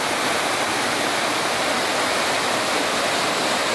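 Water pours and rushes steadily at an abandoned rural corn mill with stone workings, a loud, dense, unbroken roar like a small waterfall, close by with no voices.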